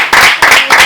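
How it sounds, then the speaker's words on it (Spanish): Short burst of audience applause for the guest Garbo at a talk event, loud and close, with clapping swelling in a few dense waves over under a second. "un aplauso entonces para Garbo por estar hoy día con nosotros"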